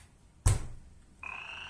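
A robot frog toy plays a recorded croak sound effect: a sharp, loud burst followed by a fading tail, then a steadier electronic tone begins, all close and without talk.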